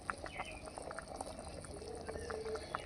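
Fried potatoes drop into a mutton curry simmering over a wood-fired clay stove, a soft bubbling and sizzling hiss running steadily throughout, fairly close, with a faint voice now and then.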